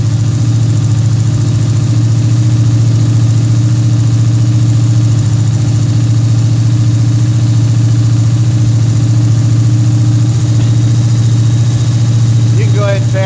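A Pontiac engine with a Quadrajet carburetor idles steadily while warming up, a loud, close, continuous low drone with an even rumble and no change in pace throughout.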